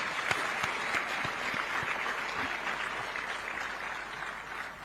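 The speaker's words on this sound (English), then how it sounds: "Can we clap for all other sponsors?" An audience at a private sector day event claps for the sponsors, dense steady applause filling the room throughout without a break.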